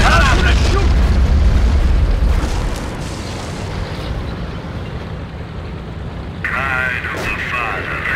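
Explosions and shooting in the World War II strategy game Company of Heroes, a heavy booming blast at the start fading into rumbling battle noise, then a sharper burst later, with voices over it.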